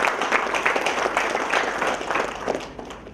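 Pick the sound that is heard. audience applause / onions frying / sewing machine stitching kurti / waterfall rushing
audience applause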